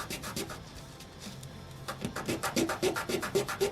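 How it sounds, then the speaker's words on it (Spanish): Sanding a small piece of a Utahraptor 3D model kit skeleton by hand: a quiet, close scratchy rubbing that turns into a quick regular series of short rasping strokes, with no talking. "Vamos a lijar esta un poco."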